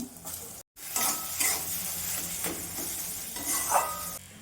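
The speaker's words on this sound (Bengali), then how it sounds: "তেল গরম হয়ে গেছে, আমি মটরশুঁটি বাটাটা দিয়ে দেবো" Mashed green pea paste frying in hot oil in a wok, a steady close sizzle with stirring scrapes and light utensil clinks, briefly cut by a short gap near the start.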